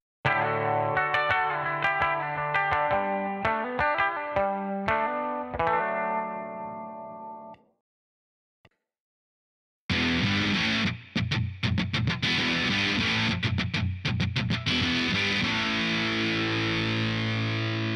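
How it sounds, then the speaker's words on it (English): Electric guitar played through GarageBand 11 amp and effects models: a clean, chorused melodic riff for several seconds, a brief silence, then loud, heavily distorted strummed chords with sharp rhythmic stops. "it'll sound better than ever with the awesome guitar sounds in GarageBand 11"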